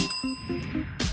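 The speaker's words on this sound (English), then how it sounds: "You guys both rang the bell at the same time." A bell rung by game show contestants in a celebrity riddle race, a bright ringing tone with several quick dings, heard alone without talk.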